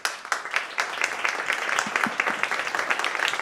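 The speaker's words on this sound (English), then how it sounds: "Join me in applauding them." An audience at a panel discussion on Brazil's investment-led growth applauds the panelists, a few seconds of steady, moderately loud crowd clapping with individual claps audible.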